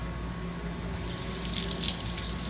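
Steady running tap water splashing over a kitchen knife in a sink as it is wetted for slicing quinoa sushi rolls, a continuous close hiss and spatter with no voices.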